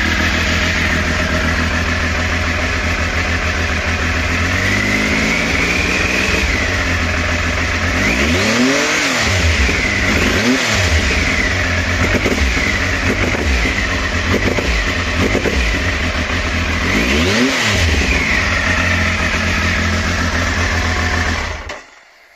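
A Triumph Speed Triple 955i motorcycle engine idles loudly up close and is blipped through several sharp revs that rise and fall before it cuts off at the end.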